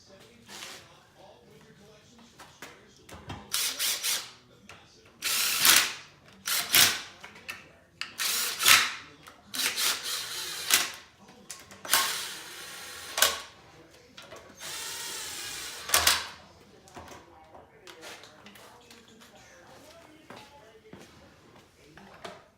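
Repeated short bursts of ratcheting on an oil pan bolt of an LS engine in a twin-turbo build, each a quick rasping click run with pauses between, close by, with a person talking around them.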